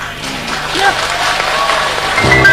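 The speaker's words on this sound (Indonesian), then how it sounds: "Tepuk tangannya keras sekali ada sebelah sini nih." Loud applause from one side of the audience at a talk, a dense burst of clapping that swells and carries under a speaking voice throughout.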